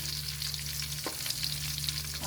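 Ginger and garlic sauté in a hot pan for a chicken dish, giving a steady, close, continuous sizzle and crackle with a brief stirring scrape partway through.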